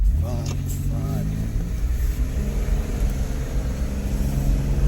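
Low engine rumble and road noise from inside a 1988 Buick Reatta as it drives around a corner, a steady hum throughout with someone talking over it at the start.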